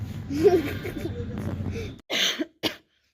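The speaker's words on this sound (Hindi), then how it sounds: "खांसी हो गई मुझे" Someone talks in Hindi, then coughs a couple of times close by, short harsh bursts followed by silence.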